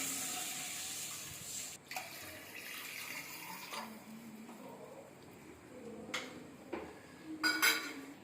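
Water pouring into a vessel for cooking poha (flattened rice) kesari, a soft continuous trickle broken by a few clinks and bumps of utensils nearby.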